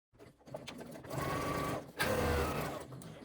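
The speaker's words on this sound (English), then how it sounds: "I'm just sewing straight down this side to the open end, and then back stitch again" A sewing machine stitches a straight seam down the side of a crossbody bag to the open end and then back-stitches, running in steady close bursts with a brief pause between.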